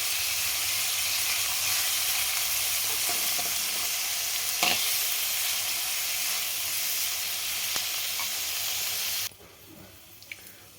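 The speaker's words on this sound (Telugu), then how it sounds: "బాగా కలపాలి. ఇప్పుడు కొద్దిగా పసుపు వేసుకోవాలి. ఒక్కసారి బాగా కలపాలి." Plantain upma curry with onions and turmeric fries in a pan as it is stirred, making a loud, dense, steady sizzle with a few faint knocks before it abruptly drops to near quiet.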